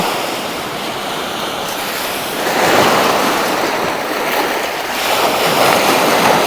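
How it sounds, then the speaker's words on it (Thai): Sea waves washing onto a rocky shore, a steady loud rush of surf that swells and recedes, with wind noise on the microphone and no voices. "เสียงคลื่นทะเล"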